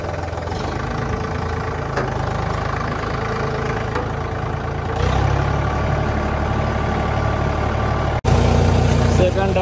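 A tractor engine idles in a rain-soaked grape vineyard with a loud, steady low rumble that rises slightly midway, while people talk nearby.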